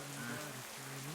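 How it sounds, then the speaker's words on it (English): Steady rain falls on a surface as a dense, even hiss throughout, with a low tonal hum running underneath. "And then eventually it just breaks and starts to rain."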